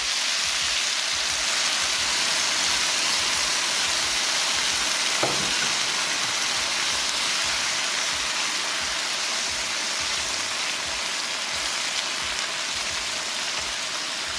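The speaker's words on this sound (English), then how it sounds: "Add your water." Water added to a hot pan of chicken for a Mexican dinner, bringing a loud, sustained crackling sizzle and hiss that continues steadily with a brief scrape partway through, heard up close with no one speaking.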